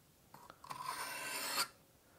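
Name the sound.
knife blade sharpening strokes on an oiled bench stone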